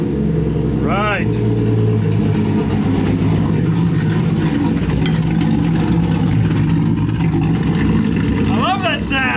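Inline six-cylinder Mustang with a hole in its muffler running loud and close, a steady deep throaty rumble with rough exhaust note throughout, and brief high chirps early and near the end.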